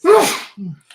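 A single sharp, close sneeze bursts out loudly, followed by a short, softer exhale and a faint trailing sound.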